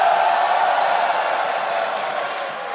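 A live event crowd cheers and applauds in a steady, dense roar of clapping and shouting that fades slightly toward the end.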